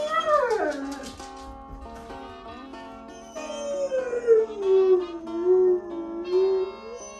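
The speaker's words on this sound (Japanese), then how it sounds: "こんなにうまく遠吠えできてなかったなと考えると" A rescue dog howls close by, a long mournful wavering howl that drops in pitch, then rises again into a sustained, sliding cry, with no talking.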